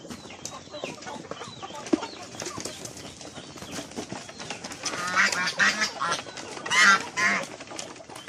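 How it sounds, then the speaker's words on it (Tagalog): Pet ducks on a farm quack and honk while being fed, scattered calls and rustling that build into louder, busier bursts toward the end, with occasional human voice nearby. "Pakainin naman po natin itong mga alaga nating mga pato."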